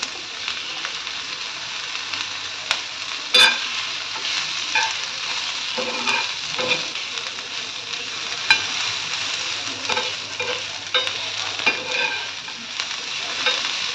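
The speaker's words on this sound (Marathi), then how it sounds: "कांद्यासोबतच आपण इकडे आलं लसूण आणि हिरवी मिरची हे सुद्धा तेलामध्ये फ्राय करायचं" Onion, ginger, garlic and green chili fry in oil for a Maharashtrian chawli usal, a steady close sizzle broken by occasional stirring scrapes and clinks of a utensil against the pan.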